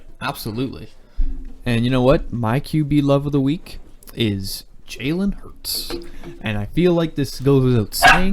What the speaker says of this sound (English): Hey, that's my dog. You can be quiet,